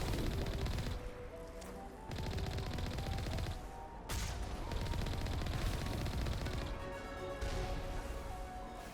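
Vehicle cannon in the video game Mass Effect 1 fires loud, rapid, continuous bursts mixed with crashing impacts, filling the whole stretch with dense battle noise.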